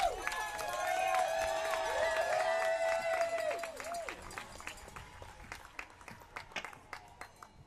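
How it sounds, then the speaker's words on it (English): A crowd at an outdoor rally for survivors bursts into applause with whoops and raised voices, then thins out into scattered individual claps that fade toward the end. "Give a big round of applause to all the survivors and all the victims and all the supporters today."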